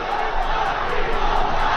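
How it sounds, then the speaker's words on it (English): A boxing crowd at a 2016 fight between Juan Manuel Lopez and Wilfredo Vazquez Jr. roars and chants for Vazquez, a loud, dense wall of voices with rhythmic shouted bursts. "And now the crowd yelling, Papito, Papito for Vazquez."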